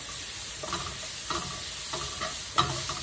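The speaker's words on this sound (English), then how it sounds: "we're going to saute this a little bit till the garlic, the oil takes on some of the garlic taste" Garlic sautés in oil in a pan, a steady close sizzle with a few soft stirring scrapes, no voices.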